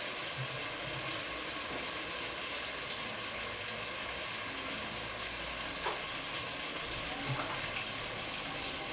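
Cameroon kanda sauce cooking in hot oil, a steady, even sizzle and frying hiss that holds through with only small pops and stirring clicks, no voices.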